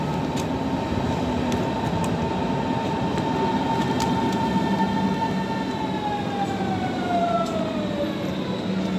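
A train passes steadily for the whole stretch, with a constant rumble and a high wheel or brake tone that slowly falls in pitch. There is no talking.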